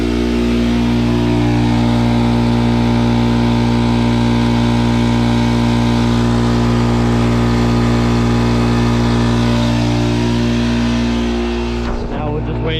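A 30-gallon, 5.5 horsepower air compressor drones loud and steady as it fills an empty tank, its motor humming at a constant pitch before a sudden clatter at the end.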